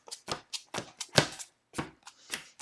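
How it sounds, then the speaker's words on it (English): A deck of Hawkeye playing cards from a tabletop game is shuffled by hand, a series of close, soft riffling bursts in an uneven rhythm, with no talking. "let's start shuffling this together"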